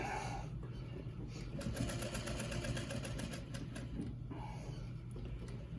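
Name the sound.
sewing machine stitching pleats into a fabric mask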